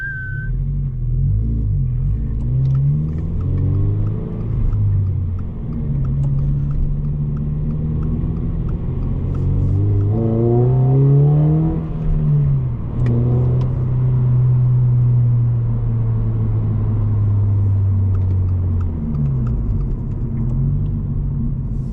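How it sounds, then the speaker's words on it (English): Toyota GR86 with an upgraded intake pulls through the gears on the road, its engine note climbing and falling in repeated rising sweeps, loud and steady throughout with a low rumble underneath. "when you give it gas, you definitely hear that intake bringing air to the engine"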